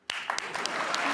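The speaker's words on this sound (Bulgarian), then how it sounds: "Аплодисменти за Малин Кръстев!" A studio audience at a comedy talk show breaks into applause for Malin Krastev, starting with a few sharp, separate claps that quickly swell into steady, full clapping.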